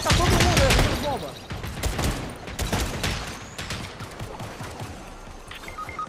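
Gunfire crackles through a Fortnite match in rapid bursts and scattered shots, loudest at first then continuing under dense game noise and excited voices.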